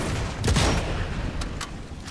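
Gunshots ring out in Sniper Elite 5, a heavy rumbling burst near the start followed by a few sharp distant cracks over steady game ambience.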